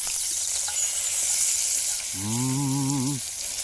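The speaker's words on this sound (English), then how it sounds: "Pile of bacon being added to." Bacon sizzles and spits in a pan on a small twig-burning camp stove in a forest, a steady close hiss with a brief wavering tonal whine rising over it near the end.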